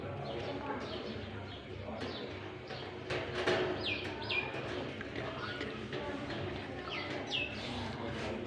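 Pet parrots chirp from their set-up, short bright calls repeated at irregular intervals while someone talks over them throughout.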